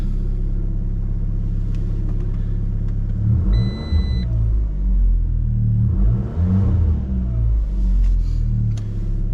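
A car engine idling after being started in a repair shop, a close, continuous low rumble that swells briefly with revs.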